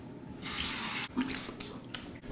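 Tap water runs into a bathroom sink to rinse off after a shave, coming in a few close bursts of splashing flow with short breaks between.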